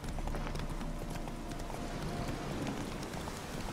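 Hooves of Geralt's horse Roach clip-clopping in The Witcher 3 (Hearts of Stone), a fast, continuous, fairly faint galloping rhythm under a rain-like wash.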